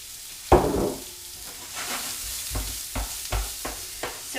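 Chopped onions drop into a hot pan beside browned meatballs and burst into a loud sizzle, then settle into steady frying crackle broken by a few clanks of a spoon stirring, close by with no talking.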